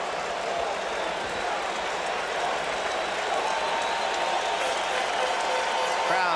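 Baseball stadium crowd at the 1986 World Series Game 7 roaring steadily for a strikeout, a broad sustained wash of cheering held at an even level throughout, with faint voices threaded in.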